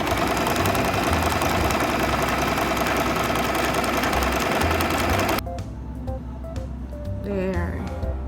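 An electric sewing machine runs at a fast, even hum, close and loud, then stops abruptly, leaving quieter mechanical clicks and movement.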